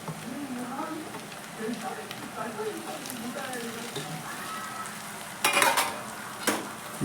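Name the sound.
finely chopped tomato frying with browned onion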